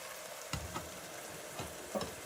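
Asun goat meat sauce with diced Scotch bonnets cooks in a pan with a faint, even sizzle, broken by a few soft knocks and stirs.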